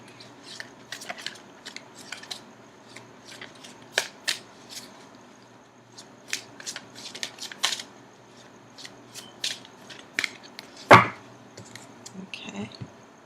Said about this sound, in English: I'm going to continue shuffling for just a few more seconds